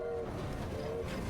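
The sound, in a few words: train in the video game Assassin's Creed Syndicate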